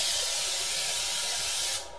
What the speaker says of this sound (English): Spray that down with some cooking spray.